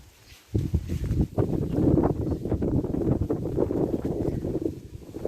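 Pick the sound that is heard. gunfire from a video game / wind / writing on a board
wind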